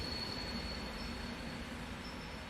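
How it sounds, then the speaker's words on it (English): Video-game train brakes squeal faintly and steadily as the train slows into a station, a thin, sustained high whine over low rumbling, with no voices. "The train's brakes squeak as they're trying to stop the train."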